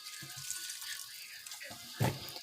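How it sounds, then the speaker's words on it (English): Soaked soy chunks are squeezed by hand, a steady trickle of water running into a sink with soft squishing and one louder splash near the end; no talking. "I'm squeezing the water out, and I'm putting them back into the container"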